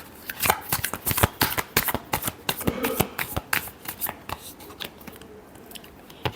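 Tarot cards being shuffled by hand, a rapid run of crisp riffling clicks and soft slaps, close and fairly loud, fading toward the end with no talking.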